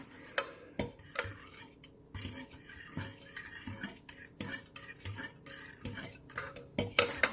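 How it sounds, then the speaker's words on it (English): A spoon stirs panna cotta mixture in a pot, giving repeated soft clinks and scrapes against the metal at an irregular rhythm, close and moderately quiet, with no talking. "just keep on stirring. Just keep stirring. Just keep stirring."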